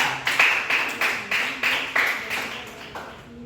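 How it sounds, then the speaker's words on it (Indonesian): Students in a classroom give a short round of applause for a presenting group, about ten loose rhythmic claps in sync, fairly close and fading slightly toward the end. "Kasih tepuk tangan dulu ke kelompok 4."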